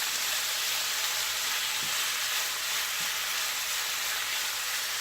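Sirloin steak browning in a hot pan, a steady, loud, even sizzle and frying hiss with a couple of soft stirring knocks, no talking.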